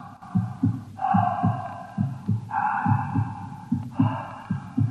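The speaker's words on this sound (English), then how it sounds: "I believe that's a respiratory sound, sir, made by the creature's oxygen plant." Radio drama effect of an alien creature's respiratory sound, a deep throbbing pulse under a droning hum that swells in three long breath-like surges, steady and close with no voices.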